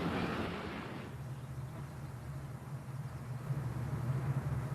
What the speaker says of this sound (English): The first train comes through.